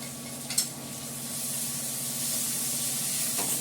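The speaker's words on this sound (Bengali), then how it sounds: "ঠিক আছে, তেল ছেড়ে দিই।" Cooking oil poured into a hot kadai on an induction cooktop, giving a steady broadband hiss and sizzle that holds for several seconds after a brief clink near the start, with no voices.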